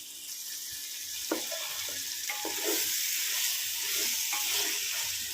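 Spiced masala for mutton biryani sizzles steadily in hot oil in a pan, a continuous close frying hiss with occasional stirring scrapes and no talking.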